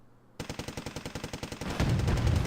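Rapid automatic gunfire rattles in a steady burst against a tank in a strategy video game, the rhythmic shots giving way to a louder, denser roar of impacts and explosion noise at the end.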